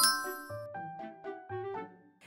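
A bright notification bell chime rings out in a quick melodic series of about eight clear dings, with a final soft tap, heard alone without any talk.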